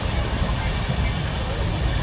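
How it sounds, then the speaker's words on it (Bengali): A passenger train on the way to Puri runs steadily after leaving the station, with a continuous loud rumble and rattle that fills the whole stretch without letup. "ট্রেন ছাড়লো এতক্ষণে আমাদের।"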